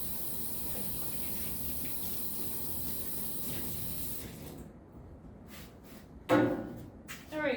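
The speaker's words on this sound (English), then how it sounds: "Let me rinse my hands off real quick." Hands are rinsed under a running tap after handling foaming shaving cream, heard as a steady spray of water that stops, leaving a quieter stretch, followed by a brief louder splash near the end.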